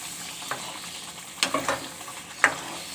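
Chicken gravy seasoned with black pepper fries in a pan with a low, steady sizzle. A few sharp scraping clicks from stirring break through it, the loudest near the end.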